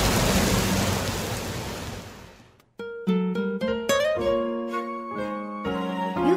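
Heavy pouring rain hisses loudly for a couple of seconds, then fades away and gives way to gentle melodic music with sustained chords.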